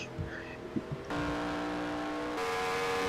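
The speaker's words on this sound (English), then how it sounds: "he just heads into the pit stops, braking like that" A race car in a racing video game brakes into the pit lane, with a few bumps and then a steady, loud engine drone that steps up in pitch twice as the gears change.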